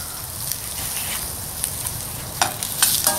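Garlic cloves frying in a pan for chicken broth give a steady, close sizzle, with scattered sharp pops and crackles growing toward the end, and no voices.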